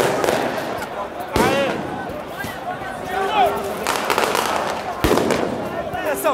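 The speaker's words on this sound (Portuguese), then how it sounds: "Galera vindo com tudo, muitos fogos." Flamengo fans set off fireworks in the street outside the Maracanã as the team arrives, sharp bangs and crackles and whistling rockets cutting through a dense crowd roar, with people talking nearby.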